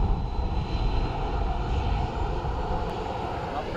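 A Ryanair airliner arriving at Dublin Airport, its engines a steady, broad roar that holds at an even level throughout, moderately near with no voices over it.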